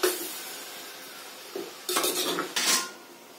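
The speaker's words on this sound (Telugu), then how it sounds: "మూత పెట్టేస్తున్నాను." Metal lid set onto a pot of kanda pulusu: a few close clinks and scrapes of cookware and utensils, with two brighter clattering bursts near the end, no voices.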